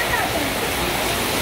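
Heavy rain pours down steadily on a rainy night in Raipur, a loud, dense, unbroken hiss close by.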